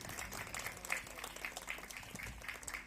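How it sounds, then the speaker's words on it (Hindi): Applause at a Ramayana knowledge competition run by a Brahmin community group: a faint, continuous patter of many hands clapping from the distance, steady throughout. "जोरदार ताली हो जाए।"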